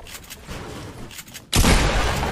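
A single loud, close gunshot blast in Fortnite Battle Royale cuts in sharply partway through, leaving a dense ringing wash after quieter game ambience.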